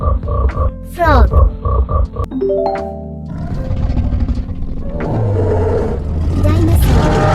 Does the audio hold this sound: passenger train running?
no